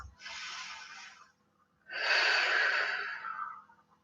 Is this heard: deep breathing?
yes